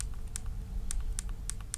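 The shutter button on a Canon G7X Mark II compact camera is pressed repeatedly, giving a run of small, crisp clicks at irregular intervals over a low background hum.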